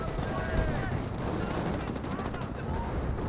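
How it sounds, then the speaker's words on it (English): Rifle grenades firing during a Company of Heroes battle, a dense, continuous clatter of gunfire and blasts with no pause, steady and loud, layered with general battle noise. "Rifle grenades are firing away"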